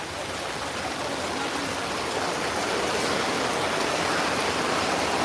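Steady rain pours over the Gabtoli cattle market, an even hiss of falling water that builds slightly louder toward the end, with no voices heard.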